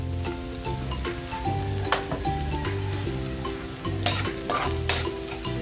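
Sautéing in a pan for beef kangkong: a constant, close frying sizzle with bursts of spatula stirring and scraping, over low background music and without talk.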